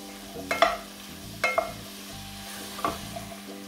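Fresh ginger-garlic paste fries in oil for mutton sukka, giving a steady soft sizzle, with a few sharp scraping stirs of a spoon against the pan, close and fairly quiet.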